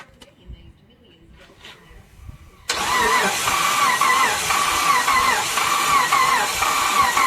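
Chrysler 300C engine being started after a water pump and timing belt replacement: quiet shuffling, then the engine catches abruptly and settles into a loud, busy running idle with a rough, uneven tone.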